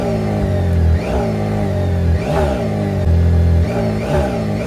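BMW K1600 sport-touring motorcycle exhaust revved up close, several repeated throttle blips rising and falling over a steady idle, loud and alone.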